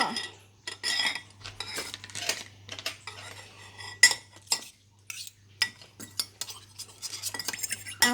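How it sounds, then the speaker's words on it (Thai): A spoon stirs palm sugar dressing with salt and sugar in a bowl for a fresh fiddler crab and mango salad, clinking and scraping against the sides in irregular bursts with short pauses between strokes. "แล้วก็คนทุกอย่างให้เข้ากันนะคะ"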